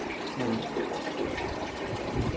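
Alkaline water streams steadily from a Kangen water ionizer machine during a home installation, a continuous close splashing rush that holds at an even level for the whole stretch.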